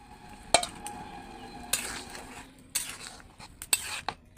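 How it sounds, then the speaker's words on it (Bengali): Pieces of fried fish go into a pot of simmering starfruit sour curry, heard as a few close clinks of a utensil and splashy scraping bursts against the pot, with no speech. "এখন ভেজে রাখা মাছগুলো দিয়ে দিব।"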